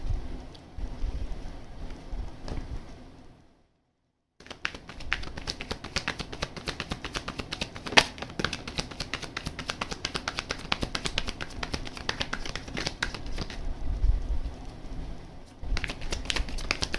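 A deck of tarot cards is shuffled by hand in repeated bursts of soft flicking and tapping, broken by a brief silent pause before the riffling resumes and runs on steadily with no speech.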